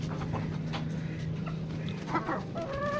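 A roundhead rooster clucks in agitation, a few short, irregular clucks and squawks over a low steady background hum, fairly close, with no speech.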